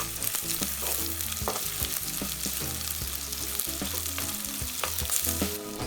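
Spices crackle and sizzle in hot oil, a busy continuous frying sound with sharp pops throughout.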